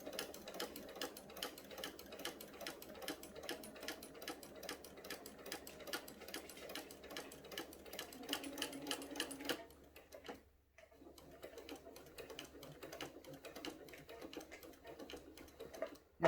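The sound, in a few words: sewing machine stitching quilt binding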